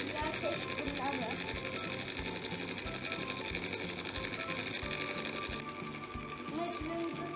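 A cotton candy machine runs steadily while it warms up, a continuous mechanical whir with a rhythmic low hum, loud and close, while people talk over it.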